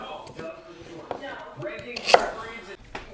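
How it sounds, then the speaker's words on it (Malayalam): Sweet potato being chopped with a knife on a board in a home kitchen, a few close knocks and one sharp loud strike standing out, with faint voice-like murmur in the background. "നമ്മുടെ സ്വീറ്റ് പൊട്ടറ്റോ നമ്മൾ അരിഞ്ഞെടുത്തു"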